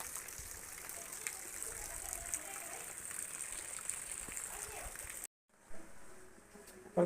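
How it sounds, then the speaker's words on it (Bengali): Heavy rain falling outside, a continuous dense hiss at low level that cuts out briefly near the end before resuming. "বাহিরে সাংঘাতিক বৃষ্টি"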